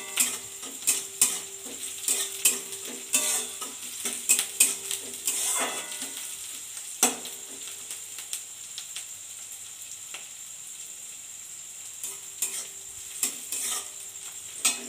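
Chopped green chillies sizzle and fry in a hot pan, a steady bright crackle with repeated scrapes and clinks of a stirring spoon against the metal, close and fairly loud.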